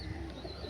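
A short, low coo from female Malwai pigeons, quiet and close, over in less than a second.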